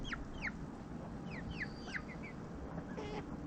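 A hen's warning call: short rising chirps and clucking calls over a steady low rumble of background noise, repeated several times at moderate distance.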